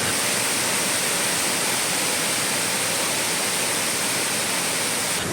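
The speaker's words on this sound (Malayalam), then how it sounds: "സാധാരണ വെള്ളച്ചാട്ടം ഒന്നും ഇത്രയും വീതിയിൽ ഇങ്ങനെ വെള്ളം ഒഴുകി ചാടുന്നൊരു വെള്ളച്ചാട്ടം" Anayadikuth waterfall near Thodupuzha, a wide stream of water tumbling over rock, roars as a dense, steady rush of noise, loud and close, with no voices.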